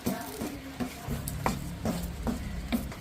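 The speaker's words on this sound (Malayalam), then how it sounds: "ഞാൻ ഇട്ട കറിവേപ്പില എണ്ണ ഒഴിക്കാതെ ചൂട് ചട്ടിക്കകത്തിട്ട് ഇളക്കിയ ഇളക്കുക" Curry leaves are dry-roasted without oil in a hot pan for a mango and pepper pickle, heard as a brisk series of rhythmic scraping stir strokes about every half second.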